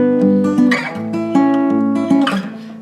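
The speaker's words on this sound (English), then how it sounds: "So if you slide like that, you get that sliding noise." Guitar barre chords strummed in the accompaniment to a song, with audible sliding shifts as the hand glides between chord shapes, close and moderately loud with no talking.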